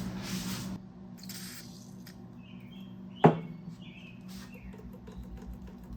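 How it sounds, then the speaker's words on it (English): Two short hissing bursts of WD-40 spray onto a seized shaft on a 1962 Triumph TR4, close up, followed by a single sharp click in a quiet room. "Spray WD-40 here,"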